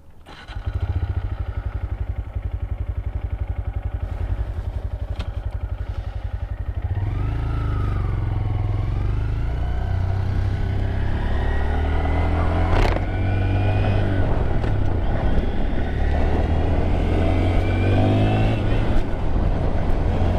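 A 2022 Honda Grom motorcycle rides along with a steady, loud engine drone and wind rush throughout, the revs rising and falling as it accelerates and shifts, with no talk over it.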